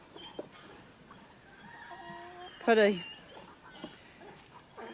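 A small flock with a rooster and two hens clucks softly in a quiet yard, then one bird gives a single loud, sharp squawk midway, followed by a few faint clucks.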